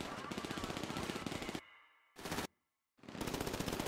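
Sustained automatic gunfire in a GTA roleplay shootout, loud and close, with rapid bursts that cut off abruptly twice before resuming.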